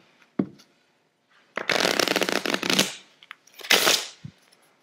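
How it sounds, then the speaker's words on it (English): A Bicycle playing card deck being shuffled: a quick riffle burst and a couple of short taps, then two longer riffling rushes of card edges, close and crisp with brief pauses between. "Shuffling."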